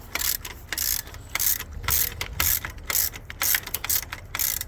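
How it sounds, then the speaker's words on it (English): A ratchet wrench tightens the belt tensioner bolt on a 1996 Jeep Cherokee engine, giving close, loud, rapid clicking in short rhythmic bursts with brief pauses between strokes. "then you can go ahead and tighten up your idler pulley belt, or your"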